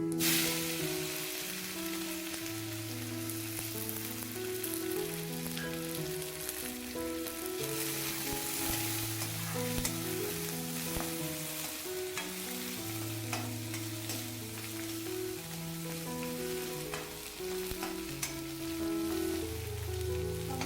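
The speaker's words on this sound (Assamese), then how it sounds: "ৰঙচুৱাকৈ ভাজি ল'ম।" Crushed garlic frying in hot oil with panch phoron five-spice for a taro curry, a steady close crackling sizzle running throughout beneath a melodic background tune.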